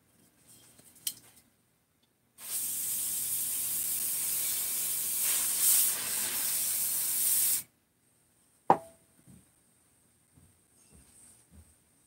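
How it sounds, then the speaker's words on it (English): Brake cleaner is sprayed through a fuel screen from a Stihl 034 chainsaw in one steady, close hissing burst of about five seconds, followed by a sharp click and a few faint taps in a quiet room. "some screens I can shoot brake cleaners straight through them"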